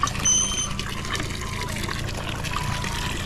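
A water pump runs without stopping as water overflows, giving a steady, continuous rush and splash of pouring water close by.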